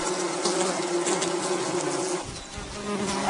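A swarm of African bees buzzing in dense, continuous drone, loud and close, with the hum thinning briefly before swelling again.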